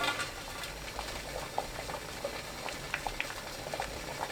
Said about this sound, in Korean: 찜기에 물 끓으면 가지를 펼쳐 올립니다.